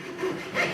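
A short burst of sawing, a couple of quick rasping strokes through thin copper sheet, close and moderately loud.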